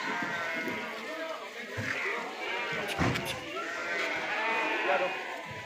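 Goats bleat at a busy goat market in Chainpura, Jaipur, their calls rising over dense crowd noise, with people talking nearby throughout.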